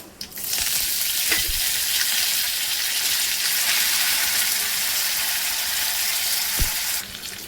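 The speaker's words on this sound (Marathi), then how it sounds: "आपण आता हा तडका चटणीमध्ये टाकून घेऊया" Hot tadka for coconut chutney, with curry leaves and coriander, sizzles loudly and continuously for several seconds, a dense close frying hiss with faint clinks at the start and near the end.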